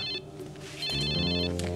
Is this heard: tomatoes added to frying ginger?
no